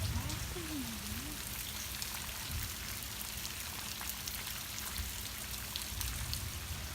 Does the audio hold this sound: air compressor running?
no